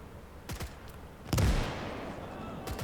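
Gunfire in the Gates of Hell real-time strategy game, with a few sharp shots followed by a loud, heavier blast that rumbles and fades, set over a low battlefield background.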